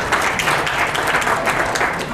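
Sustained, dense applause from a conference audience, loud and even throughout, with no pauses and no talk over it.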